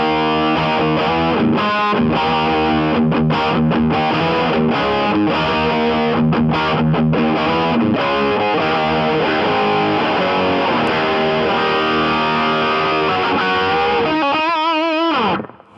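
Kiesel CT6 electric guitar with original C22 humbuckers played through a Mojo Hand FX Sacred Cow overdrive pedal, loud, thick distorted chords and riffs ringing steadily with no talking, then cut off at the end.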